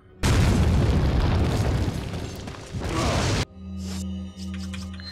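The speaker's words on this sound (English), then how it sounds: "For no real reason, let's toss a fire nade at him." A fire grenade explodes in Resident Evil 4 with a loud, sustained roaring blast that swells again before cutting off sharply, followed by quieter steady in-game tones.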